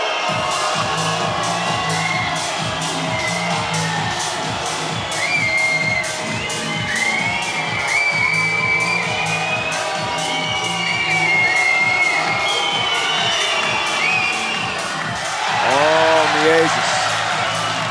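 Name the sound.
basketball crowd cheering during free throws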